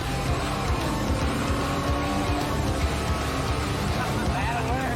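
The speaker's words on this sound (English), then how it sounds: "As we're driving the car, it sounds great." A Chevy car with no air conditioning or heater drives along, its engine a steady, full rumble under road noise, while people talk over it.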